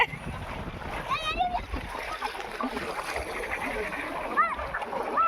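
Water splashes and churns continuously while children bathing in the sea at a beach shout and chatter nearby, with adult voices mixed in over the wash of the sea.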